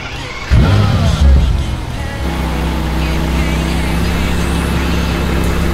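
A brand new car's engine starts and settles into a steady, loud low rumble as it pulls away in Dubai, a brief rise in noise followed by a continuous droning hum.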